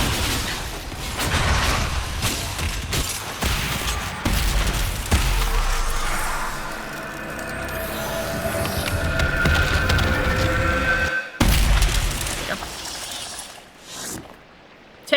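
A rock hurled in Dragon Age: Inquisition smashes with a loud shattering crash, set within dense, booming battle noise and a few crackling impacts, fading out near the end.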